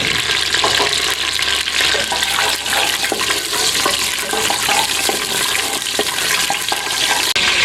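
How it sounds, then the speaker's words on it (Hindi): Whole cloves, bay leaves, green cardamom and black peppercorns sizzling in hot oil for a karahi gosht, a loud, dense, continuous crackling hiss close by with no voices. "तो तकरीबन 10 सेकंड हमने मसालों को भूना है।"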